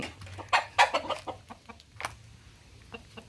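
Chickens cluck close by in a quick irregular burst of short calls, then softer scattered clucks trail off.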